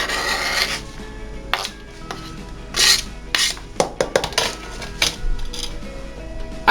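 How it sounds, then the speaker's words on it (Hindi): A knife chopping fresh coriander and green chillies on a board, a run of crisp, irregular cuts and scraping strokes with a few louder knocks, close up and without talk. "मैं इसको चॉप करके ये भी इसमें ऐड कर दूंगी।"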